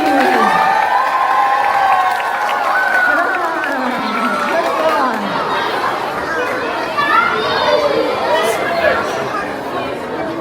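A live crowd at an animal-actors show in a shopping centre cheers and chatters as a performing dog named Jellybean comes out, with loud, dense applause-like noise and children's voices holding steadily for the whole stretch.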